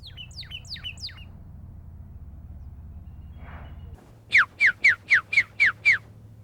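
A pyrrhuloxia gives a short burst of three rising chirps, then after a pause a clear series of seven loud, evenly spaced whistled notes close by, over a low steady background hum.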